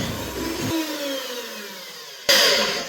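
Electric mixer whirring through cookie dough, a steady close motor whine that cuts off abruptly, then restarts loudly near the end.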